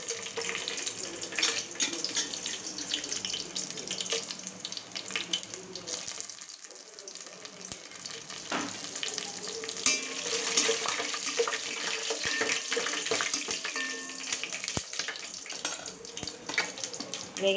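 Vegetables frying in hot oil in a pan while cooking mushroom biryani, a steady loud sizzle and crackle throughout, briefly dipping before swelling again, close by.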